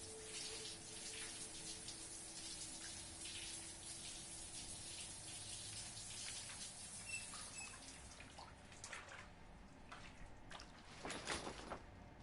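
Steady hiss of a running shower in the video game Life is Strange 2, continuous falling water that thins toward the end with a few brief splashes and drips.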